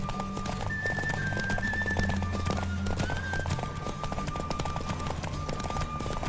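Quick, driving hoofbeats of a racing horse in The Witcher 3: Wild Hunt fill the moment, close and steady beneath a low droning score and thin whistling tones.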